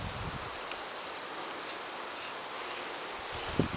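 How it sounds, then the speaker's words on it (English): Strong wind blowing outdoors at night during van camping, a steady broadband roar that stays even throughout, close and unbroken, with a small bump near the end. "I can't smell nothing in this wind. It's blowing everything right away from me."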